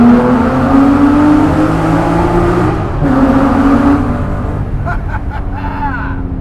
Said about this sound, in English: we're gonna give you some revs, and we're gonna see how it sounds in the tunnel